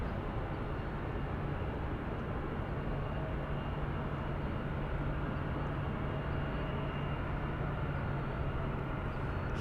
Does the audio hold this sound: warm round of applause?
no